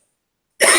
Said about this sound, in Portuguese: Ai, tô com um pigarro.